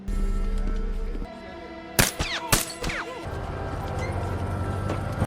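Gunfire in an action film: a short burst of sharp, loud cracks and impacts in the middle, set against a steady backdrop of music and ambience that continues before and after.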